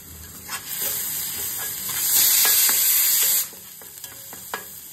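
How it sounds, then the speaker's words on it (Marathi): Garlic sautés in hot oil with a pinch of asafoetida for a vegetable dish, a continuous sizzling hiss that surges loudly for a second or so midway, then settles back, with light clinks of stirring. "लसूण आता परतत आलाय, त्याच्यामध्ये थोडंसं हिंग घातलाय मी"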